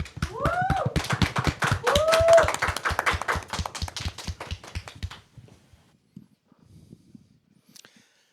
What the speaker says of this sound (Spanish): para el cual recibimos con un fuerte aplauso